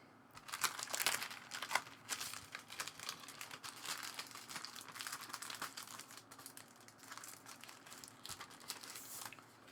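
Scissors or a blade cut away the sticky surface layer of a Wacom Intuos 4 drawing tablet, a close, continuous crinkling and tearing with small snipping crackles throughout, no voices.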